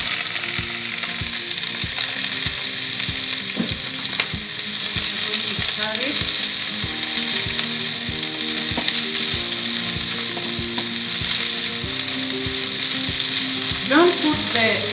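Ginger, red onion and leek stir-fry loudly in a hot wok for beef noodles, a constant dense sizzle with a quick, regular clatter of a spatula scraping the pan throughout.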